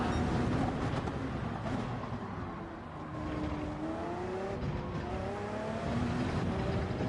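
Racing car engines in a video game race drone and rev continuously, their pitch climbing through gears as they accelerate, loud and unbroken with no talking.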